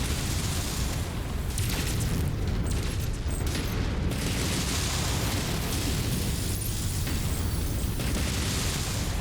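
A target is destroyed in the video game MechWarrior 5, and a heavy, sustained explosive roar fills the whole stretch. A dense, loud rumble with crackling bursts goes on without a break and never fades.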